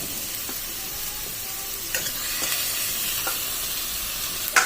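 Chopped tomato pieces dropped into a pan of frying chicken for chicken kosha, a steady close sizzle with soft stirring and a few light scrapes and clinks.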